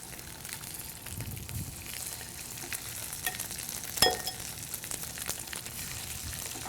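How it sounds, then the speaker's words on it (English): Chicken leg and thigh seared skin side down in a pan, giving a quiet, steady sizzle and crackle with a sharper pop near the middle. "this is going to be a sear for color in the pan and then a roast in the oven to finish cooking"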